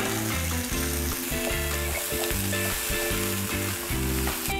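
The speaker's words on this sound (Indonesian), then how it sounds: "Ketika sudah mulai merata, time to masukkan cuminya." Squid being added to a sizzling pan with spice paste for a chilli-salt squid dish, giving a steady, loud frying sizzle throughout. Strong tonal music plays over it, and no one speaks.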